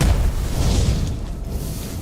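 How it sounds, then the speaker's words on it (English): Deep, rumbling boom from a ballista firing in the fantasy video game Tainted Grail, a loud low-heavy blast that sustains as a dense roar through the whole stretch with no talking over it. "You just fire a ballista at me."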